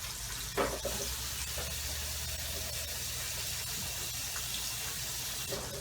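Water runs steadily from a tap into a measuring cup while gravy is being made in a kitchen, a soft continuous hiss of pouring heard close by with no talking.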